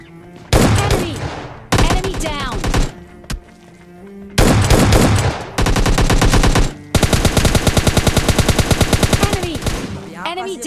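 Loud bursts of automatic weapon fire from an M416 rifle in PUBG Mobile Lite solo-versus-duo gameplay, several separate volleys and then a long rapid stream of shots, close and dominant throughout.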